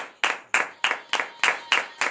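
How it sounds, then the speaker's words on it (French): Regular rhythmic clapping from a church congregation at a morning prayer service, seven evenly spaced claps in unison, fairly close and reverberant, with no talk over them. "Veuillez donner de vives acclamations à notre Seigneur Jésus ce matin."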